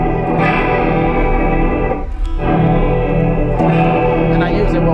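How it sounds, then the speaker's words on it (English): A sustained, thick organ-like synth tone from an electric guitar through a synth organ effects patch fills the clip, chorused and slightly distorted, with a brief dip in the middle. "It's pretty much like a synthy organ type patch for guitar."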